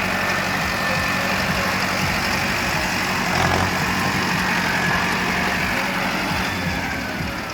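A tractor engine idles steadily close by, a low continuous rumble with no pauses and no voices, at wheat sowing with a super seeder.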